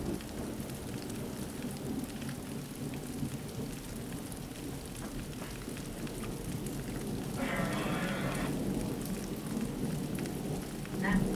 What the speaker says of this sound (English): we're keeping an eye on this storm, guys